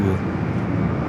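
An arriving airliner, a flight in from London Heathrow, rumbles low and steady on its approach at Los Angeles International Airport, a broad roar with no voices over it.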